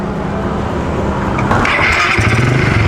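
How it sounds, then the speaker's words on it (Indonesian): Motorcycle engine that fails to start, a loud, close mechanical grinding and whirring that runs continuously for a few seconds without catching into a steady idle, with no voices. "Motornya nggak hidup nih."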